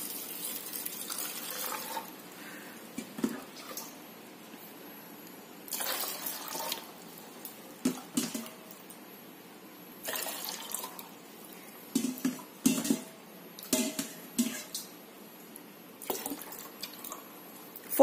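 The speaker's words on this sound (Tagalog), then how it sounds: "4 cups yung nilagay kong tubig." Water pours into a blender and splashes in short intermittent bursts, with quiet pauses between pours, close by and moderately loud.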